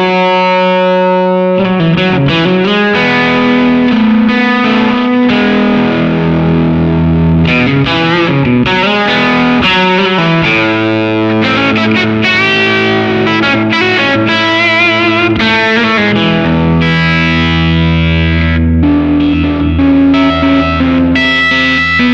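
Silktone Fuzz+ fuzz pedal driving an electric guitar with its cleanup control around 10, pushed into overdrive-like saturation; loud, continuous distorted chords and sustained notes ring out alone for over twenty seconds with no talking.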